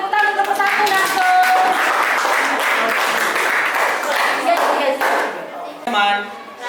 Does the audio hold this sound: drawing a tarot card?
no